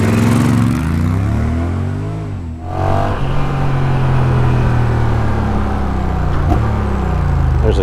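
Honda Rebel 1100 motorcycle fitted with a Coffman's Shorty exhaust, steady loud idle rumble broken by a quick throttle blip that drops and swells back, close by, no talk.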